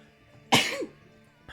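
A single sharp sneeze bursts out close by, followed by a brief trailing breath and a quiet pause.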